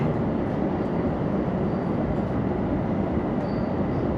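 A JR Joban Line rapid train bound for Tsuchiura at a station platform, a heavy continuous low rumble of rail cars with steady mechanical noise and no voices.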